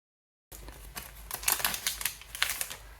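A Dragon Ball Super Divers card booster pack being opened, crisp crinkling and tearing of the foil wrapper in quick irregular bursts, close and clear after a brief silent start.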